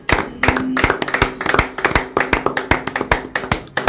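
Hands clapping in rhythmic praise during a church worship service, a fast and steady run of sharp claps close to the microphone that continues without a break, with no talking over them.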